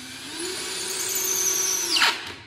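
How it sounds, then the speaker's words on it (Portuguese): A power drill runs steadily as it drives a screw into a wooden honeycomb shelf, winding up briefly with a rising whine near the end before stopping. "escarei e vou colocar o parafuso"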